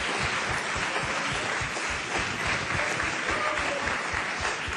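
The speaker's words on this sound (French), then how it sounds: "je vous demande de les applaudir bien fort" Crowd at a regional election forum applauding a panel with dense, steady clapping that stays loud and continuous throughout, with no voices over it.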